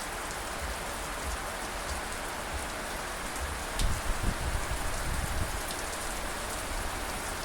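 Heavy rain pours down steadily during the first thunderstorm of the season, heard from a covered front porch as a dense, even hiss with a brief low thumping patch midway.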